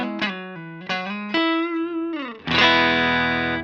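Electric guitar played through a Strymon Iridium modelling a Deluxe Reverb amp with the mids cut, clean and scooped: a few short plucked notes and chords, then a fuller strummed chord ringing out alone near the end.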